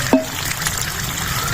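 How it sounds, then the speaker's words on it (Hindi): Water pours into a pressure cooker already holding turnips and meat, a short steady splashing and gurgling stream heard close up, with a small clatter at the start. "और डाल देंगे पानी जी।"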